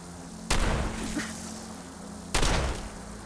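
Two loud shotgun blasts from Fallout 4, the first near the half-second mark and the second about two seconds later, each a sharp broadband crack with a booming tail over a steady game background hum.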